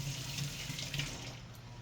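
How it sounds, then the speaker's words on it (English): Hands being washed under a running kitchen tap, water splashing steadily into the sink at close range, with no talking. "So let me wash my hands off."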